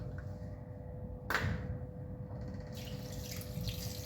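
A kitchen tap runs while hands are washed before mixing egg into a recipe, a steady close rush of water that surges briefly then settles, with no speech.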